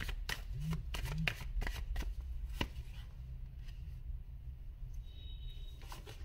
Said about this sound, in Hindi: कार्ड्स मैं और निकालूंगी फिर बताती हूँ